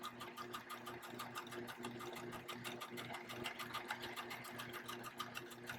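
A sewing machine zigzag-stitches along the edge of a piece of fabric, running steadily and close by with a fast, even mechanical chatter throughout, no one talking.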